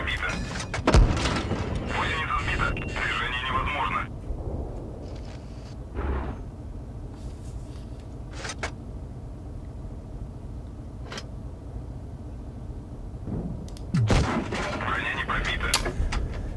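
Tank gunfire hits an AC IV Sentinel in World of Tanks Blitz, landing as a few heavy booms and thuds spread over a constant engine rumble, with a voice talking through it.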